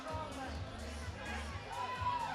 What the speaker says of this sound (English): The crowd getting behind Julie.